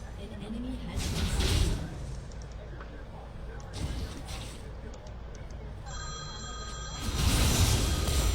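Cell phone ringing somewhere nearby during a League of Legends stream, a tonal ringtone pattern rising near the end over steady room noise and background hum.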